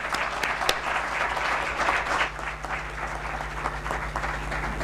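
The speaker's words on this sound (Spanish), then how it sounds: "vamos a recibir con un aplauso a Emilio José Triviño." An audience applauds to welcome a speaker at a tribute conference, a steady broadband wash of many hands clapping that fills the room evenly from start to finish, with a low hum beneath it.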